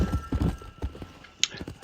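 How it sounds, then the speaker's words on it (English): Hooves clip-clop in quick uneven beats as a horse gallops during a ranch horse race in the Red Dead Redemption video game, close and moderately loud with a brief sharp noise near the end. "So this is a horse race."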